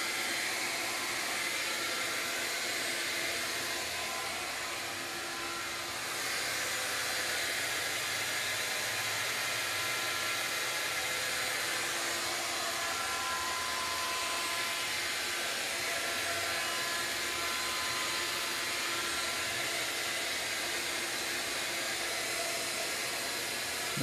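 A CNC machine makes a slow finish pass at 5 inches per minute, cutting the full depth of a countersink or chamfer. It gives a steady, loud hiss and whir that runs on without a break and has no talking over it.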